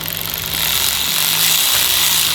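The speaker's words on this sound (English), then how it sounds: "We got one of them electric wrenches because I'm not gonna sit here and do something ridiculous." An electric impact wrench drives a bolt on a race car, a loud, continuous rattling hammer that runs unbroken through the whole stretch, close to the listener.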